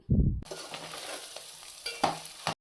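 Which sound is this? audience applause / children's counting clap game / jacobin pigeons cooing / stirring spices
stirring spices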